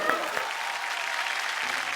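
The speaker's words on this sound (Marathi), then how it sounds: "जोरदार टाळ्या होऊन जाऊ देत." Studio audience at a Marathi women's TV game show breaks into steady, continuous applause, a dense wash of clapping at moderate distance with a faint voice underneath.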